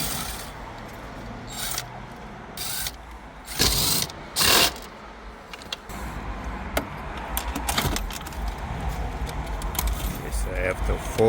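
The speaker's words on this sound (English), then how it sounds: "So we're going to remove the 10 mils." Ratchet wrench backing out 10 mm bolts holding the radio in a 2002-2006 Toyota Camry dash, with bursts of clicking pawl and metallic rattles, several louder clusters mid-way, close and alone.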